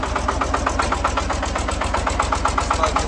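A Shifeng SF-240B walk-behind tractor engine runs steadily up close, its loud, even, rapid chugging pulse continuing without a break and with no talk over it.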